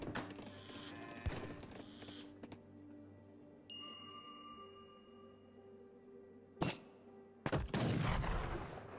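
Gunfire from Age of Empires 3 as a polar bear is sniped in a multiplayer match, with a few sharp distant shots, a metallic ding and a final louder volley over a quiet game soundscape.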